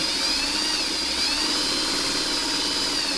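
A sewing machine running continuously while stitching fabric for a quilt, a steady mechanical whir with a high whine, close and loud, with no talking.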